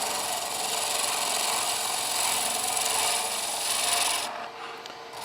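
A wooden pen blank spinning on a lathe as a hand tool cuts it in slow, easy passes, giving a steady close rasping, scraping hiss that holds evenly for several seconds and then tapers off, with no talking.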